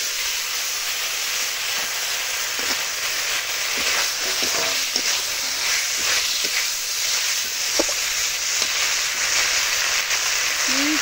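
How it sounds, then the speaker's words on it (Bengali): Fried potatoes tipped into a spice masala cooked down until the oil separates, for a tengra fish curry with small potatoes; a steady hiss and sizzle runs the whole time, with scattered scraping and clinks from stirring in the pan. "এখন দিয়ে দিব ভেজে রাখা আলুগুলো।"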